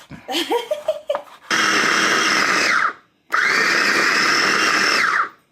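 A blender crushing ice in a home kitchen runs in two loud, steady bursts of about a second and a half each, with a short pause between them, after brief voices and laughter at the start.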